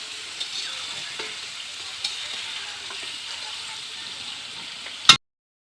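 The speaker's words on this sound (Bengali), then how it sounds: "এই আলুটা নাড়ছি" Potatoes fry in a pan with a steady soft sizzle while being stirred, with a few faint scrapes of the spatula and a sharp knock just before the sound cuts off.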